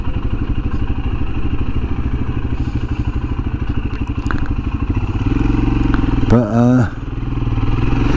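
Royal Enfield Himalayan motorcycle riding through town, its single-cylinder engine thumping steadily and loud throughout, with a brief rising rev near the end and someone talking over it.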